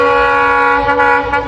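A train horn blares near a British-era iron railway bridge, a loud, sustained harmonic tone that holds steady for the whole moment with slight wavering at the end.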